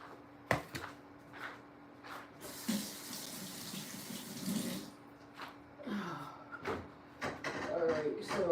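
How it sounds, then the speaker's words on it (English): Hands are washed under a running tap, a rushing burst of water that splashes for about two seconds in the middle, surrounded by quieter handling clatter and faint voice-like sounds. "Let me wash my hands before I touch my broccoli"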